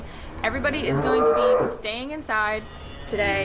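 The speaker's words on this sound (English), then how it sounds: "You can hear a cow behind me being very noisy" A dairy cow that has just calved moos loudly and repeatedly inside a barn, several long drawn-out calls close by, while someone speaks over and between them.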